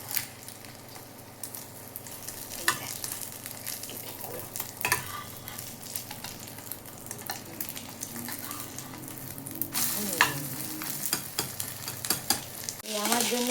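Egg omelette frying in a pan, a close crackling sizzle with scattered pops and utensil scrapes that grow busier and louder toward the end.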